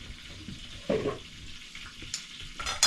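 Low, continuous sizzling and bubbling of food deep frying in oil in a lidded pot, with a few clinks and handling noises nearby.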